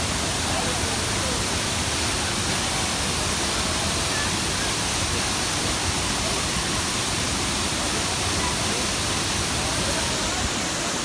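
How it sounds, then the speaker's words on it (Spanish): A waterfall near Ibagué, Tolima, Colombia pours down in a dense, loud, unbroken roar of falling water that stays constant and close, masking any other sound. "nos encontramos acá la caída total de agua"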